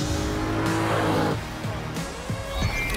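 A 2014 Audi RS4 Avant with a naturally aspirated 450 hp V8 drives past close by, its steady engine note rising and falling, with a brief tire squeal near the end and no talk over it.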